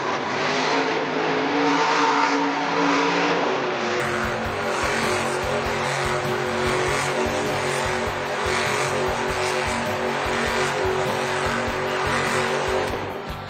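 The Grave Digger monster truck, driven by Weston Anderson at a Monster Jam arena event in Denver, roars through loud engine revs and tire-skidding runs, with a dense, continuous din of engine and crowd throughout.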